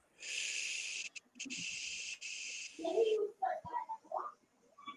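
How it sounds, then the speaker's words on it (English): A slow, deep breath drawn in through the nose as a long, close hiss, followed by a softer exhale with faint voiced sounds trailing at the end. "So if you breathe deeply in through the nose, hold it, and then exhale."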